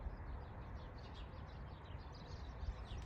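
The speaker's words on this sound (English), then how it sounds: "I love just like listening to the birds." Birds chirp faintly in a spring backyard garden, light repeated tweets drifting over a low steady outdoor rumble, distant and soft with no voices.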